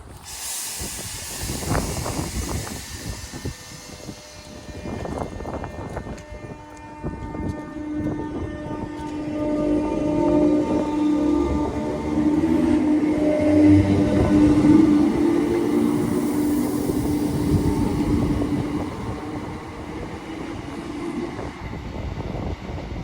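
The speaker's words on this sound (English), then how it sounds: "Train now departing is a 319 going to Liverpool Lime Street." A Class 319 electric train pulls out of Roby station toward Liverpool Lime Street, with clanks and hiss at first, then a rising, sustained electric whine and rumble that peaks close by before slowly fading.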